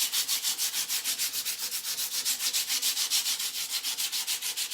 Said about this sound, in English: So I'm going to find my smoothest sandpaper and just lightly sand it.